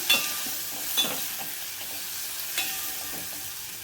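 Tomato pieces go into a frying pan for a dal-free sambar, bringing a soft continuous sizzle with a few light clinks and stirring scrapes, close and fairly quiet, with no voices.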